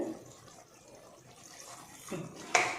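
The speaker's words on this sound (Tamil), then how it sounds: "லைட்டாக தண்ணி தெளித்து விடணும்." Quiet background, then a couple of short splashes of water sprinkled into a pan of chicken gravy near the end, the last one louder and hissing.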